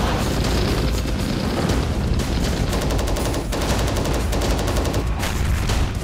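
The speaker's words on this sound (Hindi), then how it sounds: "चौबीस घंटे में रूस ने जिस तरह से विस्फोट किया है, उससे यूक्रेन में शहर शहर त्राहिमाम मच गया है।" Explosions and gunfire from Russian strikes on Ukrainian cities. A dense, loud barrage of rapid blasts and booms rolls continuously, with no pause in the fire.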